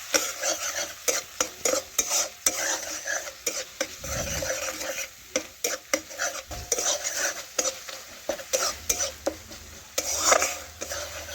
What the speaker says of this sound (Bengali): তো দেখুন বন্ধুরা, মশলা আমি ভালোভাবে কষে নিয়েছি।